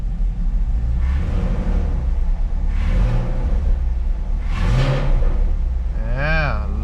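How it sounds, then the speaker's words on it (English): A car engine, with a wideband air-fuel sensor being fitted, revved in several rising-and-falling pulls over a loud rumbling idle, the last rev sharper and higher, close by. "let's give it a little rev"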